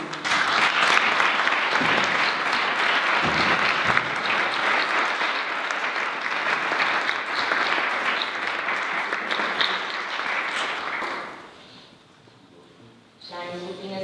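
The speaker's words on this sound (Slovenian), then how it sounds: "En aplavz, prosim." Audience applause at a university innovation awards ceremony, loud continuous clapping for about eleven seconds that fades out, followed by a voice starting to speak.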